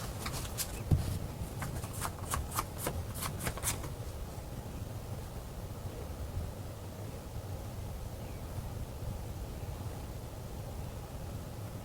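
Tarot cards shuffled in quick crisp riffles during the first few seconds, followed by quiet room hiss.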